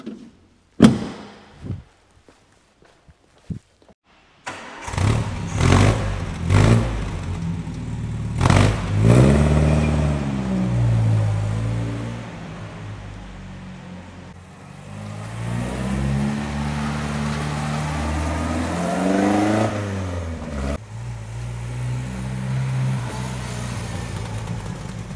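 A 1957 MGA 1500 roadster engine starts with a few clunks, then revs up and settles into a steady run on a road test, climbing and dropping in pitch as the four-speed manual gearbox changes gears.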